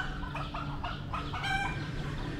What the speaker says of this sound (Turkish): Horozla tavuk mu dövüşüyor?